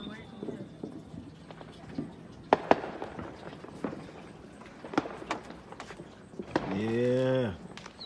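Fourth of July fireworks heard from a porch: scattered sharp pops and distant bangs sound over outdoor background noise, with people talking nearby.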